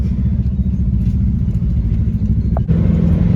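Loud, steady low engine rumble from a vehicle fitted with a swapped 400 engine as it is ridden off toward a garage, with a brief shift in tone near the end.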